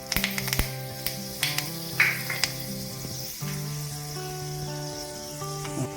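Fenugreek seeds crackling in two spoons of hot mustard oil in a kadai, a soft steady sizzle with scattered sharp pops and taps from the pan, heard over faint background music.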